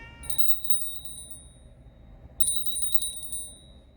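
A small bell rings in two quick bursts of bright, rapid dings, separated by a short pause, with faint background noise underneath.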